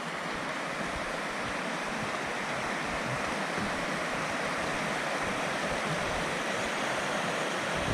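The Big Carp River rushes steadily beneath a footbridge on a forest hiking trail, a loud, continuous broadband wash of flowing water with no voices.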